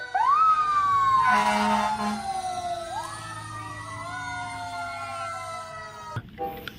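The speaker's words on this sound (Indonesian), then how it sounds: "di sini ada mobil pemadam kebakaran lagi teman-teman. Kali ini mobil pemadamnya pembawa tangga." A toy ladder fire truck wails with an electronic siren, its tone sweeping up and then gliding slowly down in repeated cycles, loud and close, with a brief click and clatter at the end.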